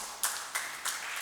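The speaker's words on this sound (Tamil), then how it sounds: "வாங்க, கைத்தட்டுங்க அவங்களுக்கு." Three sharp, separate hand claps sound close by at even intervals in a quiet room at a talk on astrology.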